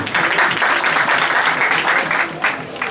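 An audience applauds in a steady, dense wash of clapping, loud and continuous with no voices rising above it.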